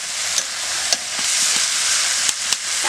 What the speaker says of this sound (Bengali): কুমড়ো আলুর তরকারিটা আমি হালকা হালকা জ্বালানিতে কষে নিচ্ছি